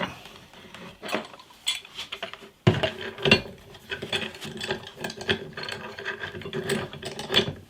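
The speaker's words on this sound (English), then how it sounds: "get a clamp in just about here and squeeze that down" A clamp is ratcheted tight on an electric guitar body blank, giving a series of close, clicking and creaking mechanical turns with short pauses, fairly loud and steady throughout.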